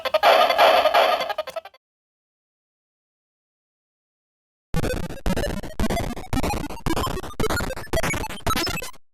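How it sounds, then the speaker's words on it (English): Sound effects from a Fix-It Felix Jr. mini arcade game play at maximum volume and distort harshly. A loud burst is followed by a pause, then a run of repeated rhythmic chirpy blips. "Here it is at maximum volume, and you can hear it gets pretty distorted."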